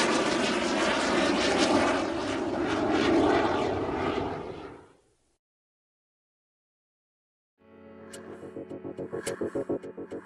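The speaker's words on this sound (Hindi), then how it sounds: "बाबा ने फाइटर जेट को नीचे उतारा।" A cartoon fighter jet lands with a loud roaring engine that fades out, then after a brief silence a pulsing, throbbing engine hum starts up again.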